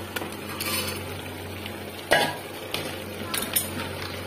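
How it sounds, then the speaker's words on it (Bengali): Washed, drained mutton pieces go into a pan of sizzling spice paste, with a low steady sizzle, a few clinks and scrapes of a spoon against the pan, and one sharper clatter midway. "ধুয়ে জল ঝরিয়ে রাখা মাংসগুলোকে দিয়ে দেবো।"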